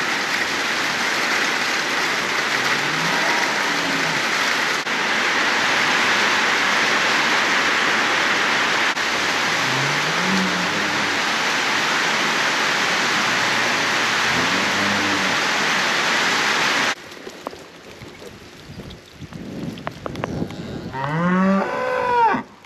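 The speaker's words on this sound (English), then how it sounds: "That little shower lasted for about 5 minutes" A brief rain shower patters steadily on a hayfield, a dense, even hiss for most of the stretch before it abruptly thins out, while cattle moo repeatedly in the middle distance and grow louder and closer toward the end.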